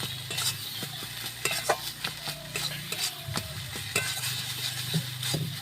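Bottle gourd peel fries in a pan, with a steady sizzle beneath repeated scraping stirs of a utensil against the pan, close and clear, with no talking.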